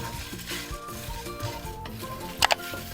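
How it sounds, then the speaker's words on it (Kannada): A spoon scrapes and stirs dry spices roasting in a pan for paneer pepper fry, with a soft, continuous gritty shuffle and faint crackle, then two sharp metallic clinks near the end, all close up with no talking. "ಇನ್ನೊಂದು 2 ನಿಮಿಷ ಸ್ವಲ್ಪ ಡ್ರೈ ರೋಸ್ಟ್ ಮಾಡ್ಕೊಳ್ಳೋಣ"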